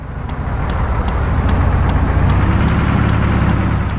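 A truck engine driving in the mobile game Truck Simulator Pro 3, a steady, loud, low rumbling drone that holds throughout, with faint regular ticks above it and no voices.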